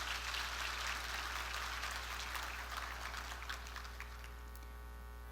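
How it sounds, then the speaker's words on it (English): Seminar audience applauding at a leadership training event, a dense wash of clapping that holds steady and then thins out toward the end, over a constant low mains hum. "So please give yourselves a round of applause"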